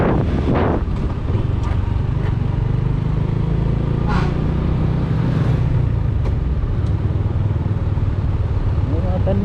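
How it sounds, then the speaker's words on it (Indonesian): A heavy, fully loaded truck passes on the Sidikalang–Medan highway near Lae Pondom. Its deep engine rumble runs steadily throughout, mixed with buffeting wind noise at the microphone. "Akhirnya ya kelewatan juga ya mobil beratnya."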